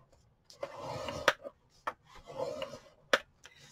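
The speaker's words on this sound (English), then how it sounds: "I'm going to score it at 3/4 inch" A tool scores a line into cardstock for a bird house, giving several short rubbing strokes with brief sharp clicks, close and fairly quiet, with no talking.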